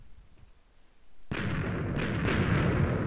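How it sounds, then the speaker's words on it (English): TNT explosion in Minecraft: after a quiet stretch, a sudden loud blast hits and rolls into a sustained, rumbling roar with a few sharper cracks on top, carrying on to the end. "treat your eyes to this pretty cool explosion"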